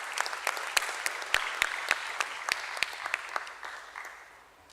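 Audience applause at a stock exchange listing ceremony, a small gathering clapping in distinct, fairly close claps that thin out and fade toward the end.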